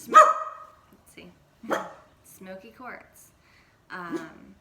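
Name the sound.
dog barking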